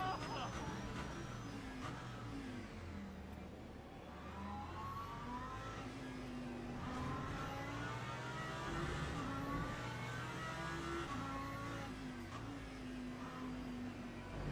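A Lamborghini engine in a racing video game roars steadily throughout, with rising and falling revs and a continuous mechanical drone at close range.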